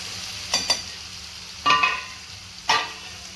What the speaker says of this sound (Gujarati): તેલથી બરાબર સતરાઈશું એને, એટલે દૂધી ધીમે ધીમે